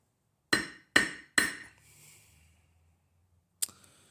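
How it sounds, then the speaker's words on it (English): A hammer strikes a fine silver ring in a jewellery workshop: three sharp metallic taps in quick succession, a short pause, then one more tap, close and crisp in a quiet room. "I want to do it with a hammer"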